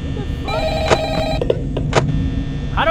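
A telephone rings in the Five Nights at Freddy's horror game, a series of sharp electronic ring bursts over background hum, with a voice talking briefly alongside.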